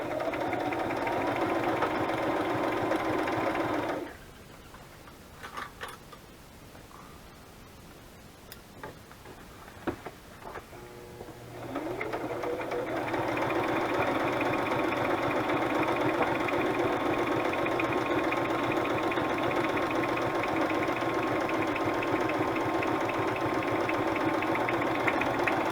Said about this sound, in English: some people like to hear the sewing machine